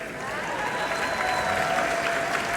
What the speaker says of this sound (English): so clap it up for yourselves